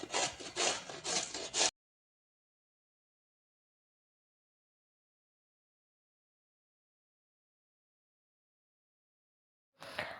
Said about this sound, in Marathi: आवळे किसून घ्यायचे आहेत आता.